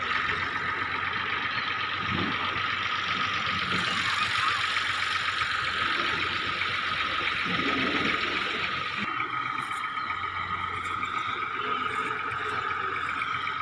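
A tractor engine idles steadily at the wheel of a field cutter, a continuous mid-pitched rumble holding even and close for the whole stretch with no break in level.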